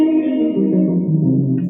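Electric guitar notes in a major pentatonic run ringing out through a reverb effect, sustained tones decaying into a washy tail, close and clear with no talking.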